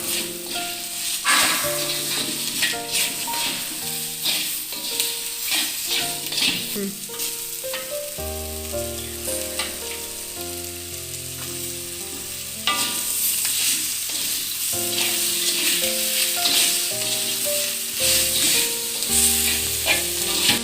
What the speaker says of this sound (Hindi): डालना है नींबू, सारे के सारे नींबू डालें, थोड़ा सा मिक्स कर दे उसको बीच बीच में।